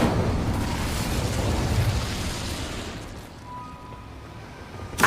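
Incendio fire spell cast in Hogwarts Legacy, a loud roaring burst of flame that washes over the scene and slowly fades into a lower rumble, with a sharp crackle at the very end.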